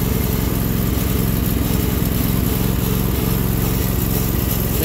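A Sears Suburban loader's 20HP V-twin engine running on two cylinders in winter cold, a steady, loud, close chugging drone with a rough, even pulse and no talk.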